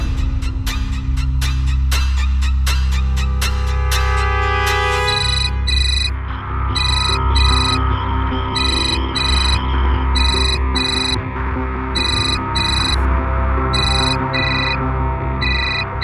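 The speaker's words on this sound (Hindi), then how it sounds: "उठाओ फोन" A phone ringtone plays loud and steady, a repeating electronic chirping pattern in regular bursts over a dense dramatic music bed.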